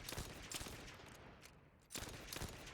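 A hand cannon fires in a firing range in the video game The First Descendant, with several sharp, fairly slow-spaced shots ringing out, a brief lull, then more shots, fairly quiet overall.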